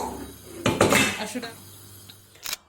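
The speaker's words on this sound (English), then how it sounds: "I'm going to stir it and allow it to cook" A spoon stirring oat soup in a metal pot, a short burst of clattering, scraping strokes against the pot followed by a couple of lighter clinks, close and fairly loud.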